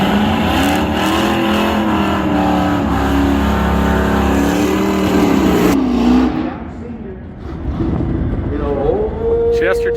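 Muscle cars and a truck at a drag strip: a loud, sustained engine roar with rising revs that cuts off abruptly, followed by quieter engine noise, with a commentator talking over it.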